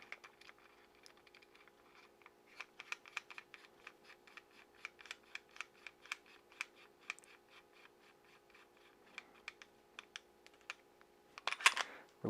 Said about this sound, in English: Reinstall the thread protector.